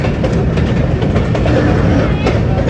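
Passenger train 102 Down standing on the loop line at Deona on the Jhelum to Lahore route, with a loud, dense, continuous rumble and rattle of wheels and carriages close by.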